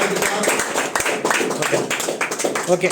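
Audience at a village prize ceremony during Dattatreya Swamy Jayanti celebrations in Jangalapalle clapping loudly, a close burst of uneven hand claps with someone speaking over them.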